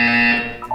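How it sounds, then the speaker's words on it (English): A harsh electronic buzzer from the video game Portal 2 sounds loud and steady with a harmonic tone, then fades and wavers toward the end of the short burst. "When you hear the buzzer, look down at the floor."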